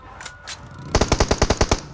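Automatic weapon fire in the mobile battle-royale game PUBG Mobile: after a couple of faint shots, a rapid burst of about a dozen evenly spaced, loud, close gunshots rattles off, with no voices.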